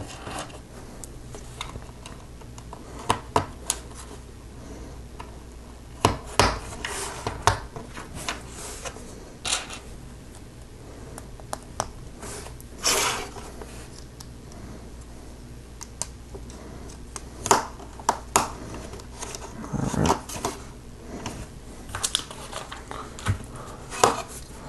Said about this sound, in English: we're assembling a few different parts and then we'll kind of put it all together.